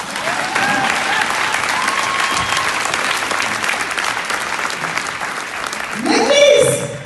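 A church congregation applauding the Lord with sustained, dense clapping at steady loudness, a voice rising above it near the end.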